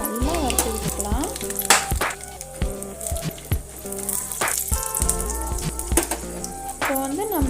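Dried red chillies fry and sizzle in a pan of oil for lemon rice, with steady crackling broken by scraping stirs and metallic clinks, close and fairly loud, and there is tonal music or hum running underneath.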